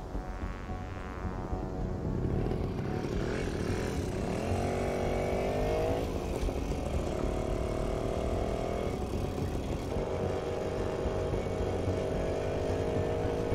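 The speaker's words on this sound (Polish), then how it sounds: "ciekawe co to za motocykl" A motorcycle engine in the video game The Medium runs steadily and loudly, with rising and falling revs and throttle swells under a constant droning rumble throughout.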